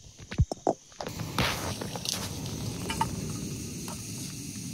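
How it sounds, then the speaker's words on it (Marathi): Onion frying in a pan outdoors on a riverbank at dusk gives a steady, close crackling sizzle, after a few soft knocks and handling thumps at the start. "कांदा तळून घेते"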